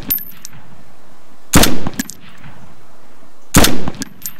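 Rifle gunfire in DayZ, two loud, sharp single shots about two seconds apart, each with a short echoing tail, over quiet background.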